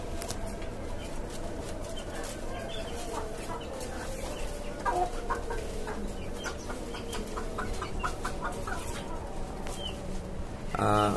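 Tiger chickens on a rooftop farm atop a five-storey building cluck and murmur steadily in a busy flock, with occasional louder calls and some faint talk in the background.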